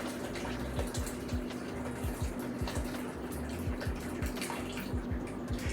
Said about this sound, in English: To this, we're going to add 4 cups of hot water.